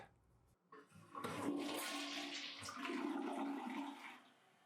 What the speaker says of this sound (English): The flush power is pretty good though, and everyone likes a soft close lid.